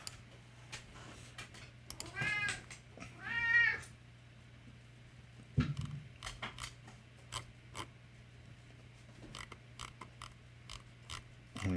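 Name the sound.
cat meowing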